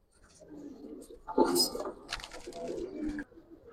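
Giribaz pigeons coo softly nearby in short, low, throaty bursts, with light rustling and a faint voice in the background.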